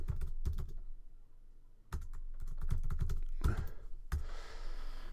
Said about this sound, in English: I'm gonna type in my new one.